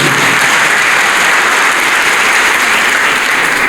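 An audience at a polytechnic school ceremony breaks into loud, dense applause, a continuous wash of many hands clapping close and steady, with no voices on top.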